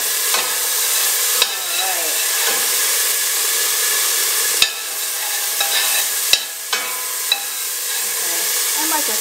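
Ingredients sautéing in oil for Cambodian hot pot (yao hon) give a steady, loud sizzle and hiss, broken by a few sharp clicks and stirring scrapes from a utensil in the pan, with no talk.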